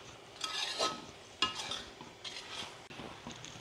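Coconut ladoo mixture with sugar being stirred in a wok, soft scraping strokes of a spoon with a couple of sharper clanks against the metal, fairly quiet.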